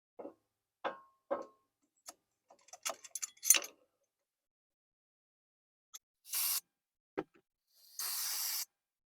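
Brake cleaner sprayed onto the front brake rotor and caliper of a Chevy Spark, heard as several short hissing bursts and a longer closing spray, close up, separated by clicks and quiet gaps with no talk.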